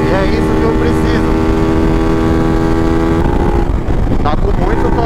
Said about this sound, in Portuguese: a moto tá muito arisca assim, ó